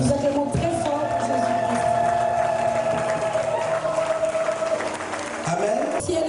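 A church congregation applauds and cheers loudly at a service in Brussels, a steady wash of clapping and voices with a droning tone running underneath throughout.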